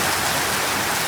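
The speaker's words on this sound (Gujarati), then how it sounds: "જોરદાર વરસાદ પડે છે" Heavy rain pours down in a loud, dense, unbroken hiss that holds steady from start to finish.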